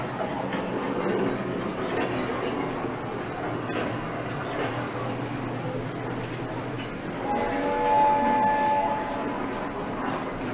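Steady rumbling of a train rolling along rails, a continuous low roar with faint rhythmic clatter and a brief high whine partway through.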